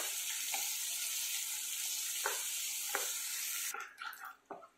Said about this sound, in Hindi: प्याज को हल्का सा ब्राउन होने देते हैं